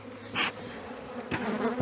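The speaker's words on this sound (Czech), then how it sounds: "Teď se jdeme pohádat na další včeličky." Honey bees buzz steadily at a beehive during an April hive inspection in Brno, a continuous close hum with two brief louder swells, no speech.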